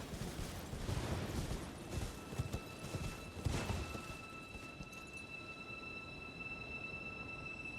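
Horse hooves gallop in Elden Ring, a quick rhythmic run of muffled thuds at moderate distance that thins out and fades into ambient hiss after a few seconds.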